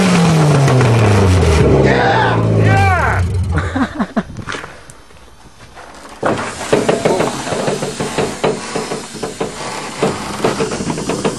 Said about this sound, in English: fire this pick up and see how the exhaust sounds